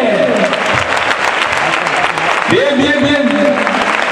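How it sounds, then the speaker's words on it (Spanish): A bullfight crowd applauds loudly, the clapping mixed with shouting and an announcer's excited commentary throughout. "Fuerte el aplauso, hombre."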